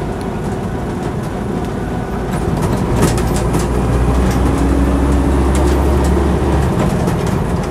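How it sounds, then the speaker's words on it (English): Land Rover Series III 88-inch soft-top driving along, its engine and gearbox giving a loud, steady low drone with a faint whine rising in the middle, plus rattles and cabin noise throughout, no talking. "Gearbox is nice, there's no jumping out of gear or funny sort of extra whining, no more than they do normally from the gearbox."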